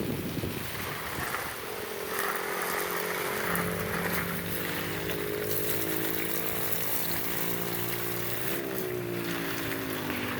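Water sprays steadily from a hose while vegetables are watered on a farm, a continuous hiss mixed with strong wind noise buffeting the microphone outdoors, with a low engine hum underneath throughout.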